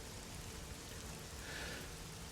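Steady rain falls in a dense, even hiss with no breaks, a continuous wash of drops close by and no voices.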